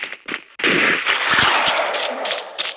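A gun fires in Special Forces Group 2, zombie mode: a couple of separate shots, then a sustained roaring burst of rapid fire with crackling impacts, loud and close.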